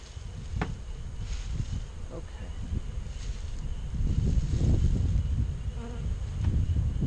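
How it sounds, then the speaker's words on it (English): Honey bees hum in a steady, dense buzz close by while a hive is installed outdoors, with rustling handling noises, occasional soft bumps and faint voices mixed underneath. "now we're going to install the bees"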